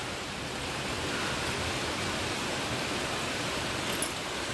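Heavy monsoon rain in Chiplun, a steady dense hiss of downpour outside that holds at an even, loud level with no break.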